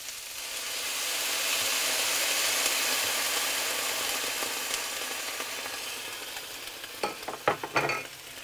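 White wine poured into a hot pan of salted ingredients for an Italian zuppetta, giving a steady, close sizzle that hisses for several seconds before a few sharp clatters of stirring near the end.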